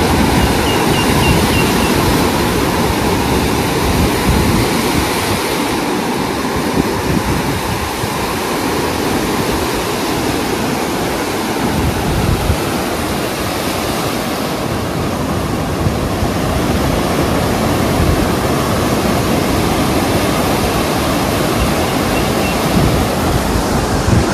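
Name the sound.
rough sea waves at high tide on beach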